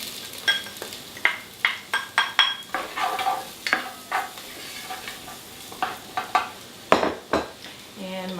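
Onions sauteing in a pan ahead of a peanut sauce for chicken, with a rapid series of close scraping and clinking stirs over a light sizzle, no talk.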